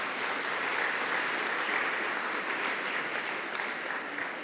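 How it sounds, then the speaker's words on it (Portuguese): A church congregation claps together at a sermon service, a steady dense wash of applause from a large crowd, moderately distant and fairly quiet, with no one speaking over it. "Se você crê na sua oração, aplauda bem forte o nome de Jesus."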